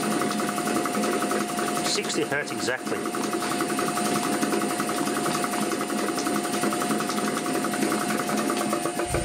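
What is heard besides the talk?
old air compressor running on a VFD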